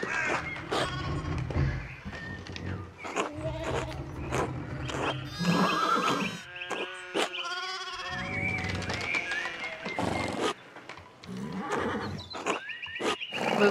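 A horse in the medieval video game Pentiment whinnies loudly and repeatedly, with clip-clopping hooves and snorts close by, the neighs rising and falling in long bursts.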